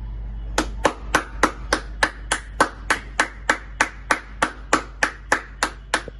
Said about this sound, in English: I hear so many people, everybody in their balconies clapping.